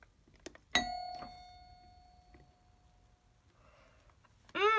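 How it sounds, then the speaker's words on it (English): A fire alarm doorbell gives one sharp electronic ding that rings out with a long, slowly fading tone, followed by a few soft clicks and a second chime at the end. "now we're going to do our fire alarm doorbell"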